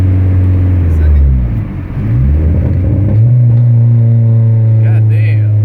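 Dodge SRT-4 with a new exhaust revving and accelerating, a loud, close, deep engine drone that dips and climbs again as it shifts gear, with people talking over it.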